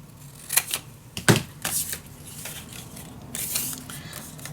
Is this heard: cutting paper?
yes